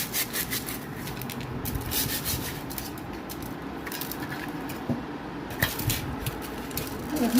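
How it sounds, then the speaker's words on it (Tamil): A whole pomfret fish is scrubbed by hand with coarse rock salt and turmeric, giving a continuous gritty rubbing and scraping sound, close and steady, with a few sharper scuffs. "கல் உப்பும் மஞ்சள் தூளும் போட்டு நல்லா தேய்க்கிறாங்க இதை வச்சு உராசினா தான் மேலே இருக்க கழுக்கெல்லாம் வந்துடும்"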